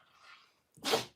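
A short, sharp sneeze bursts out after a faint snuffly breath, close and sudden, with nothing else around it.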